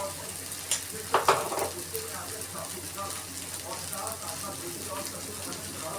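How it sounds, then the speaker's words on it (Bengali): Ground spices and chili powder frying in oil for a jackfruit and shrimp curry, a steady sizzle with a few brief scraping stir strokes near the start, under some quiet speech. "1 চামচ লঙ্কা গুঁড়ো দিয়ে আমি এটাকে ভালো করে কষিয়ে নেব"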